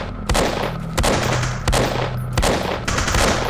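Bursts of automatic gunfire in a video game, several loud rapid fusillades separated by short pauses, close and harsh.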